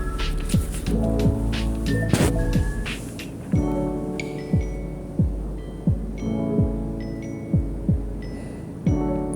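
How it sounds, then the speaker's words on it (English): A sewing machine hums with a steady mechanical drone, and sharp rhythmic clicks and thumps recur every second or so as it runs continuously, stitching fabric pieces together. "Back to our sewing machine."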